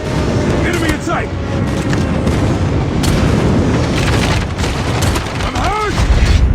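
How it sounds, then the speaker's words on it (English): Airstrike explosions in a first-person shooter video game, a continuous barrage of heavy booms and rumbling blasts, loud and dense, with game voice lines and talk over it. "Enemy airstrike incoming."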